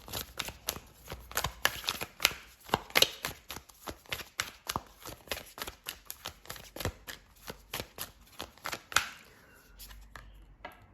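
A Moonology oracle card deck is shuffled up close, producing a quick run of crisp riffling snaps and flicks in uneven bursts over about ten seconds, quiet and without speech.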